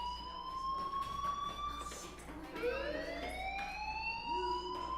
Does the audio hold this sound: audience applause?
no